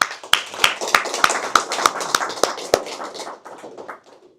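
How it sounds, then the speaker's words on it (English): Sharp, evenly spaced claps ring out about three per second at a DevOps and AI meetup, fading toward the end; sounds more like a few people clapping in rhythm than a large crowd. "I would like to ask you to applause for everyone who is here just to support each one"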